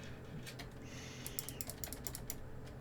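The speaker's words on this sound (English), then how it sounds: "It's not difficult to press left and right on the keyboard" Computer keyboard keys pressed during PC game play, a quick uneven run of close clicks and taps, light at first and then busier, with no voices.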